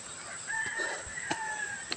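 Rooster at a gamefowl farm crowing once in a clear, drawn-out call at moderate distance over quiet outdoor ambience.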